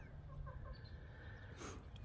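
Chickens and other fowl on a farm, with low clucking and short bird calls scattered over a steady low rumble of background noise, moderately near.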